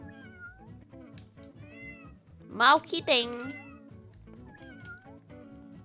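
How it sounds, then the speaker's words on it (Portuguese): Two loud, close cat meows from the video game Tasty Planet ring out in quick succession, rising above steady game music, with someone speaking briefly over it. "Tem gatos maiores, sério."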